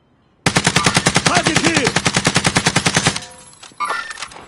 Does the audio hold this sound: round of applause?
no